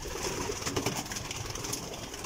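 Domestic pigeons cooing on a rooftop loft where a keeper houses twelve pairs, soft low coos blending into steady outdoor background noise, faint and continuous with no talking.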